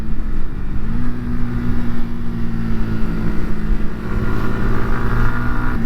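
A Yamaha MT125 or R125 motorcycle (2023) is ridden through corners, its engine droning loud and close with a steady pitch that rises gently under wind rush.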